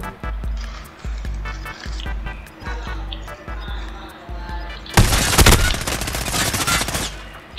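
Shotgun blasts in the shooter Call of Duty: Modern Warfare: a string of sharp, evenly spaced thumping shots, then a sudden louder burst of crackling gunfire near the end, with game noise and some talk around it.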